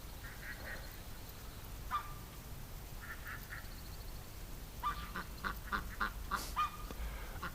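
Ducks quack faintly at a distance in short clustered bursts, sparse at first and then a busier run of calls toward the end, over a low steady outdoor hiss.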